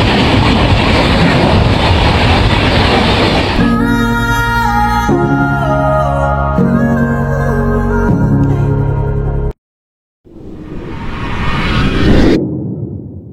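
The 12325 Gurumukhi Superfast Express from Kolkata to Shimla rushes by with a loud, steady roar and rattling wheel noise, then a bright tonal hum, a sudden brief silence and a rising whoosh as it returns.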